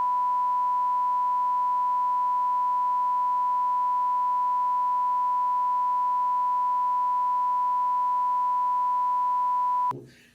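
A loud, steady high-pitched electronic tone from a Qoocam 3 360 camera holds unbroken for about ten seconds, then cuts off abruptly.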